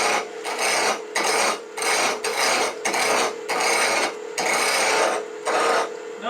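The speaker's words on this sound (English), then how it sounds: "the first thing we're going to do is take a spindle roughing gouge and turn it around" Spindle roughing gouge turning wood on a lathe, an acorn project: loud, close rasping and scraping in repeated strokes of roughly half a second, over a steady low motor hum, with no talking.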